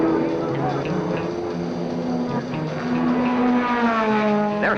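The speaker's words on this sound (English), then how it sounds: "Their heavy-throated big-bore engines are tough" Deep, throaty big-bore race car engines at Sebring in 1964 roar steadily close by, their pitch wavering and climbing as they rev.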